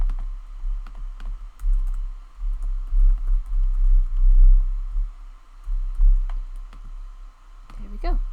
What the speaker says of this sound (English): I'm going to type in the email